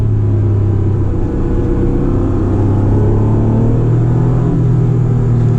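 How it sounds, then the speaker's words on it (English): Acura NSX engine induction and exhaust heard from inside the cabin while accelerating on a fast, winding road, a loud, steady low rumble and drone that holds throughout. "I just love the sound behind my head. So my ears hear that induction noise."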